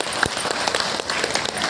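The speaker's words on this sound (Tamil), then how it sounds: "கைத்தட்டணும்." An audience claps at a temple gathering for a pradosham observance, a short burst of dense, even applause from many hands, close and steady, with no talk.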